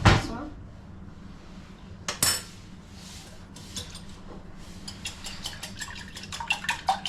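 A spoon mixes corn muffin batter in a bowl: scattered scraping at first, then quickening rhythmic clinks and taps against the bowl, close and fairly loud.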